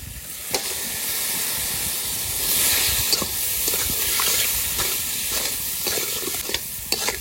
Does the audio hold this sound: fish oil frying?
yes